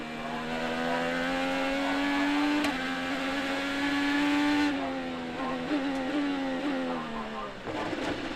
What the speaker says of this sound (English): You hear the engine start to go quiet